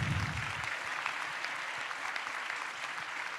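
Steady applause from a crowd, dense and continuous clapping that holds at an even level throughout, with a low rumble at the very start.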